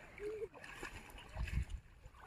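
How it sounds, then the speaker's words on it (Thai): Elephants bathe in water, sending up faint, irregular splashes and sloshing, with a brief heavier burst of splashing midway. Distant people talk softly in the background. "ตอนนี้น้องๆก็พางามโชคกับแม่วาดอาบน้ำนะคะ"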